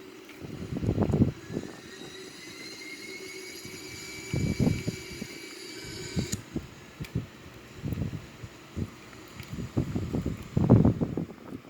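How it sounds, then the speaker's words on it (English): An Airbus A340-313X rolls out on runway 14 at Zurich airport with reverse thrust, a steady engine roar and whine heard from inside the cabin, broken by repeated low thumps and rattles as the aircraft decelerates. "So here we are, just touched down the runway. Reverse."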